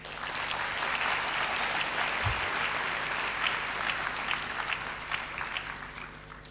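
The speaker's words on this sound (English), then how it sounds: "I think we should give them a hand of applause" Sustained applause rises from a large audience at a 2012 graduation ceremony, a dense, even roar of many hands clapping that stays steady with faint crowd sounds underneath.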